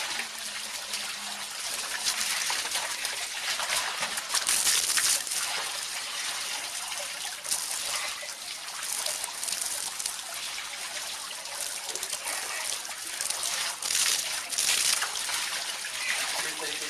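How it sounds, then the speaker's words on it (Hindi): Tap water pours steadily in a continuous hissing splash onto a person's back while bathing, with a voice speaking over it at times. "आप ये बैक बोन पर पानी डालते जाए मेरुदंड पर"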